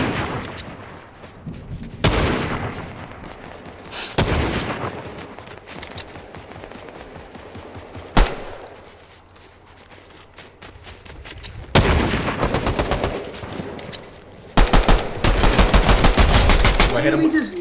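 Fortnite gunfire in bursts: loud rapid automatic volleys and single sharp shots, with heavy continuous firing toward the end, mixed with game noise and occasional players' chatter.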